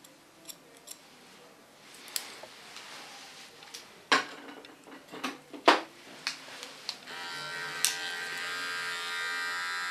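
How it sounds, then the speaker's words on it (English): An electric hair clipper trimming a pixie cut, short bursts of buzzing and snipping contact sounds close up, ending in a steady whirring hum as the clipper runs continuously. "With my smallest clipper, I'm going to clean the line."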